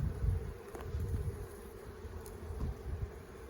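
Honeybees buzzing in a newer, lightly populated hive during an inspection, a steady low drone with faint rustles and soft knocks close by, no voices.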